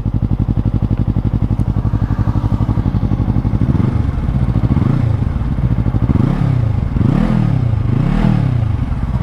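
A Yamaha R3 motorcycle idles with a steady, throbbing exhaust note from its muffler, close and loud, then the rider blips the throttle several times so the engine revs rise and fall.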